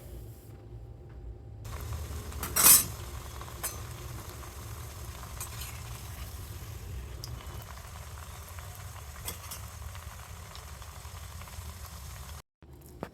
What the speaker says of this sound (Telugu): ఇలాగ గోల్డెన్ బ్రౌన్ కలర్ వచ్చే వరకు కూడా మనం ఆ వడలన్నీ కూడా ఫ్రై చేసుకోవాలి